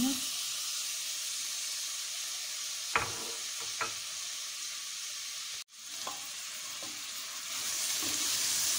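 Chopped onions sizzle steadily in hot oil in a home kitchen pan while cooking lentil soup, a loud continuous hiss broken by a couple of sharp utensil taps and a brief dropout.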